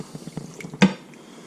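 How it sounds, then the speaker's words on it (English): Lemon juice and garlic sauce is poured over a cleaned black drum fish, giving one short, close splash of liquid after a few quiet kitchen clinks. "we're going to go ahead and pour this over your fish"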